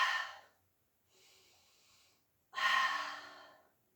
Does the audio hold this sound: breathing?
yes